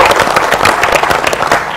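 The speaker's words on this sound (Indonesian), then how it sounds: "Boleh kita beri tepuk tangan yang lebih meriah untuk panelis dan juga tim sukses yang sudah hadir" An audience applauds the panelists at a discussion event, loud dense clapping filling the short stretch with a crowd murmur underneath.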